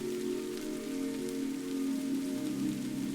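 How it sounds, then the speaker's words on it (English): Rain falling over a rocky, wild landscape of ancient stones and olive trees, a soft, even hiss of drops that holds steady throughout, with a low, sustained hum underneath and no voices. "The rain falls over the rocky, wild landscape."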